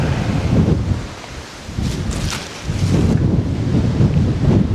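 Strong wind gusts through palm trees bent almost double along the coast at Costa Teguise, buffeting the microphone in loud rushing surges that briefly ease and then build again.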